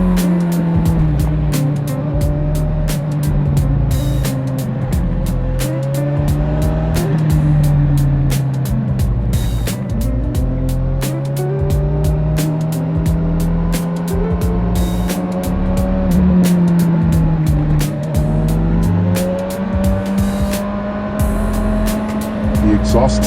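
A Honda CB1000R Black Edition four-cylinder motorcycle cruises a coastal road, its exhaust a steady, close, loud drone rising and falling gently with throttle changes, with wind rush throughout.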